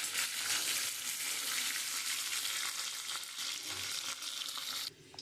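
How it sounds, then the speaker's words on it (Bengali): Pieces of pointed gourd (potol) frying in hot oil until reddish-brown, a continuous close hissing sizzle with light crackles and occasional stirring scrapes, steady throughout before a brief drop near the end. "এবার আমি পটলটা লাল লাল করে ভেজে আমি তুলে নেব।"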